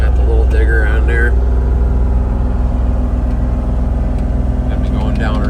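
A mini excavator engine runs steadily while trenching for an electric line, a loud continuous low rumble and drone with slight variation, and a voice talks over it.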